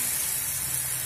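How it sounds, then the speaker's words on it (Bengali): Potatoes, seasoned with salt and turmeric, fry in hot oil over a medium flame, giving a steady, close sizzling hiss without a break. "আলুগুলো মিডিয়াম ফ্লেম করেই ভাজবো যাতে একটু নরম হয়ে যায়।"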